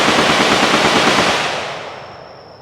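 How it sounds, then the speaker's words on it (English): AK-47 rifles firing on automatic at a shooting range at the Cu Chi tunnels near Ho Chi Minh City, Vietnam: a loud, dense burst of rapid gunfire that thins and fades toward the end, no voices. "We've got AK-47s being shot in the background, which is what you can hear."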